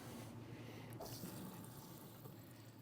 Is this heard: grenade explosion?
no